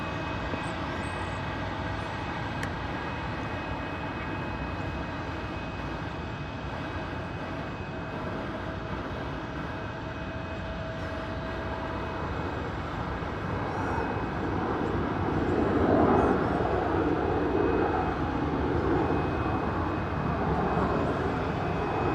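Steady roar of a jet airplane landing in the distance at DFW Airport, a broad rumbling drone that swells louder toward the end.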